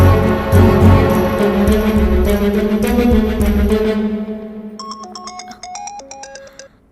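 A telephone ringtone plays loud and close in repeated pulsing bursts, then fades into a thinner, higher melodic pattern of quick tones before stopping.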